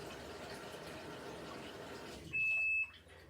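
A Haier mini portable washer with its lid left open gives one short, steady electronic beep, loud and close, after a stretch of soft water-filling hiss.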